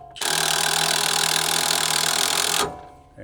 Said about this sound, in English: And lifting.